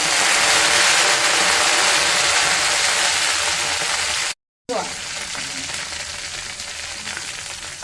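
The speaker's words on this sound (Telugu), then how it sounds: "ఉల్లిగడ్డలు ఎరగాయని అన్నీ వేగినాయి" Onions and curry leaves fry in oil for vegetable sambar, giving a loud, steady sizzle and crackle close up, briefly cut off and then resuming with the same bubbling hiss.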